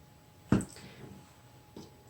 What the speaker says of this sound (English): I'm going to also use my water spritzing